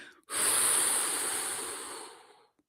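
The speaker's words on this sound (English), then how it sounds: "One more cycle. Slow exhale." One long, slow exhale breathed close to the microphone during a guided breathing exercise, a soft airy rush that gradually fades away, alone with no talking.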